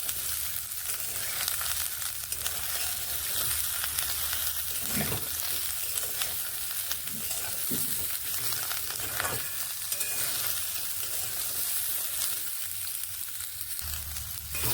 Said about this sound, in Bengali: এইভাবে কয়েক সেকেন্ড নেড়ে ভেজে নেওয়ার পরে